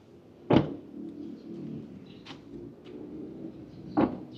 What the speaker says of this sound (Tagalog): Okay, smooth ang pagsara ng pinto.